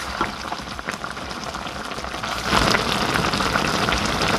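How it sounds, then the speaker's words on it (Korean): Tteokbokki bubbling in its sauce over medium heat while being stirred, a steady close crackle of simmering liquid that grows a little louder partway through, with no talking. "양념이 잘 배도록 저어가며 뭉근히 끓여줘야 맛있습니다."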